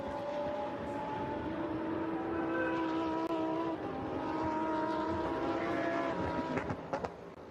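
Lamborghini Super Trofeo race cars at the Imola circuit, engines droning loudly and steadily with several overlapping tones before the sound fades and breaks up near the end.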